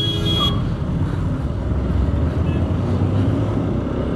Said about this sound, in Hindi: कितना ज़्यादा ट्रैफिक लगा हुआ है यार।